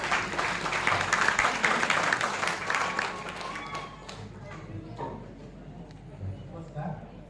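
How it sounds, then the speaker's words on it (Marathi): A crowd at a sales training contest gives loud applause for Pundalik Jadhav, a dense burst of many hands clapping that fades out after about four seconds, leaving scattered claps and quiet room noise. "त्यांच्यासाठी एकदा जोरदार टाळ्या."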